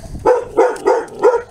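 A dog barks close by, four short, loud barks in an even rhythm within about a second and a half, with no voices over it.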